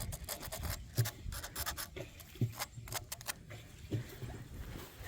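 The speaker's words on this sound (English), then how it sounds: "I gotta scrape the bark off of it." Rough, uneven scraping and rasping strokes as bark is peeled from a sycamore log, with a few sharper knocks mixed in, up close.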